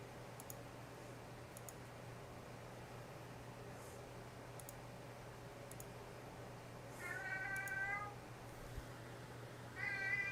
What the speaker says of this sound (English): cat in the background, screaming